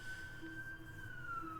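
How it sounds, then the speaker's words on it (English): A siren wail in the video game Eve Online, heard while docking: a steady tone sliding slowly downward over a low background hum, moderately faint. "Here's the sirens."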